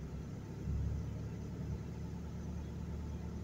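A Hyundai Grand Starex engine idles with a low, steady rumble that swells briefly as the aircon engages and RPM climbs, then settles back to an even hum.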